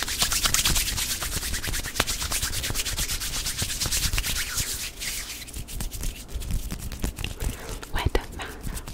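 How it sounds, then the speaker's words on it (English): Wet hands rubbing and squishing together in a close ASMR recording, a fast, continuous stream of slick friction and smacking that runs steadily for the whole stretch with a few sharper claps near the end. "Wet, wet, wet, wet hand sounds."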